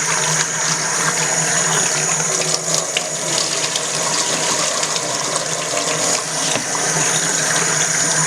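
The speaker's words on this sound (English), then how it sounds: "you still have to wash your rice" Brown rice being washed under a running tap, a steady loud gush of water splashing over the grains with faint clinks and stirring throughout, no voices.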